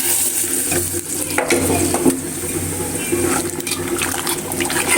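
Fried onions going into simmering dal in a pot, a close bubbling sizzle with stirring and scraping sounds, loud and steady for a few seconds.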